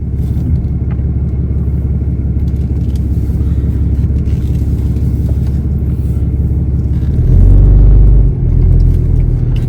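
A Ram 2500 pickup truck drives at night, its engine giving a steady, loud, low rumble heard from inside the cab that swells briefly near the end as it accelerates, with no talking.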